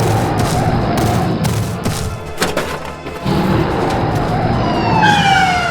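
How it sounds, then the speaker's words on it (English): A police car siren sounds during a rescue scene with a crocodile, its wavering tone buried under dense thumps and clatter and emerging most clearly near the end. "The police car takes action."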